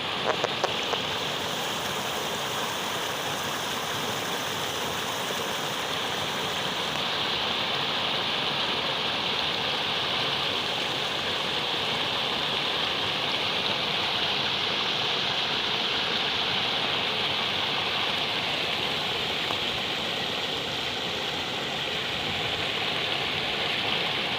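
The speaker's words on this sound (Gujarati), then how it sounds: "હવે નદીઓ નાળા છલકી ગયા છે" Steady, loud rush of a river overflowing at a check dam fills the whole stretch, a broad continuous roar with no voices and little change throughout.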